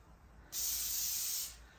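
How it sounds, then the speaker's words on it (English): A single burst of canola non-stick cooking spray hisses for about a second, close and clear, then stops. "going to spray the surface"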